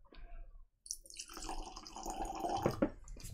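Whisky, a 21-year-old Glenburgie, trickling and splashing into a glass after a short silence, a close liquid pour that gurgles louder toward the end, no one speaking.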